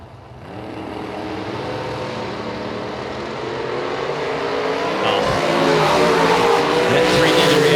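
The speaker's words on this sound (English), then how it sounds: "there's 2 S10s coming at us here" Two Chevrolet S10 pickup trucks drag racing at a drag strip, a loud sustained engine roar that builds steadily as they approach, with an announcer talking over it.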